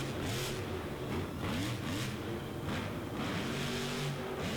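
Monster truck engine roaring and revving at a Monster Jam arena show in Milwaukee's Fiserv Forum, loud and continuous with rising and falling pitch sweeps as the throttle opens and closes, crowd noise underneath.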